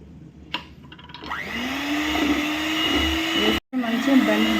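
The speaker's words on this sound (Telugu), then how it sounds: "ఇప్పుడు బ్లెండర్తో బ్లెండ్ చేసుకుందాం" An electric blender whirs steadily as it blends a vanilla ice cream mix, the motor loud and close, starting after a few knocks and briefly cutting out before running again.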